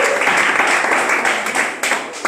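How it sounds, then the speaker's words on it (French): Audience applause at a young entrepreneurs' conference, a dense steady wash of clapping filling the whole moment at fairly loud level, with no clear talk over it. "Acclame si tu veux."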